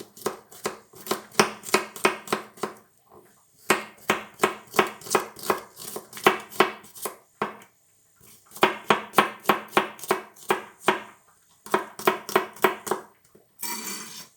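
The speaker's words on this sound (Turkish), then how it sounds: "Sosumuzun içine bir başta sarımsak doğrayalım." A knife chops garlic rapidly on a board in quick bursts of even strokes, separated by short pauses, close and crisp, with no talking.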